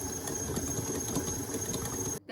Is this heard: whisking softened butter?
yes